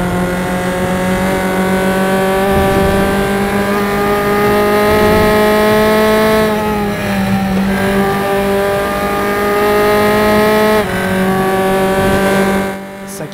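A race car engine in the game RaceRoom drones loudly and steadily, its pitch dipping and rising slightly as it shifts and accelerates.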